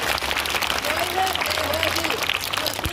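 An audience applauds at a school song performance by a class 9 group, a dense continuous patter of clapping over a crowd. Voices carry over it, and a faint sung or spoken melody sits beneath the clapping.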